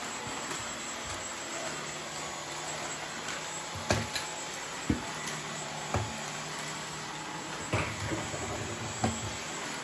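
A Dyson V15 Detect Absolute cordless vacuum cleaner with laser head runs steadily and fairly quietly indoors, a continuous whirring hiss with a few soft knocks and bumps as it moves across the floor.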